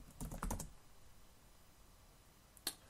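A burst of rapid computer keyboard typing up close, several quick keystrokes in a row, then a pause and one final sharp key press, faint and quiet overall.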